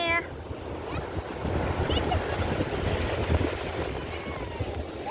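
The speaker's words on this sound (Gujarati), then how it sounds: "હા કેવા મોજા આવે છે આમ તો જો" Sea waves wash onto Madhavpur beach in a continuous rolling surf, with wind buffeting the microphone and faint voices in the background.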